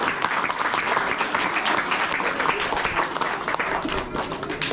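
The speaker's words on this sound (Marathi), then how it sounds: "सो बन्स अँड मॅकडोनल्ड्ससाठी टाळ्या होऊ द्या." Dense, sustained applause from an audience at a school-support event for students thanks the company Burns and McDonnell, loud and continuous with no break.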